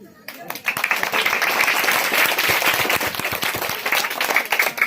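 Applause from an audience at a poetry recital contest in a madrasa starts abruptly and swells into steady, dense clapping that carries on loudly to the end.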